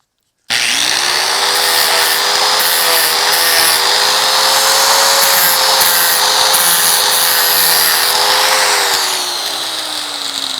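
A flap grit disc on an angle grinder grinds a steel crowbar, a loud continuous whine that starts abruptly, holds a steady pitch, then slowly drops near the end, with no voices.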